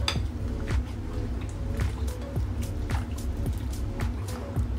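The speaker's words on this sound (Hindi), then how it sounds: "ये सब डाल के अच्छी तरह से मिक्स कर लेंगे इन सब चीजों को" Wet squishing and clinking of beef being mixed by hand in a bowl with spices, garlic-ginger paste and raw papaya for a marinade, with soft rhythmic squelches and occasional taps against the dish, close and steady.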